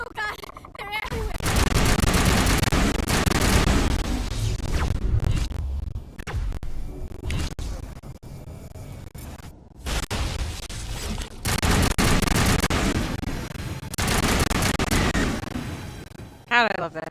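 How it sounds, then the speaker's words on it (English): Incendiary-ammo gunfire in the Mass Effect video game, loud sustained bursts of shooting and combat noise across most of the stretch, with brief lulls between volleys and talk mixed in. "God, I love that incendiary ammo."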